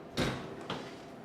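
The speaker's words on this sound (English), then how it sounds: "I'm going to open my door" A SunClean 3-in-1 compactor door is pulled open, giving one brief thump and rattle followed by a fainter second knock a moment later, close and otherwise quiet.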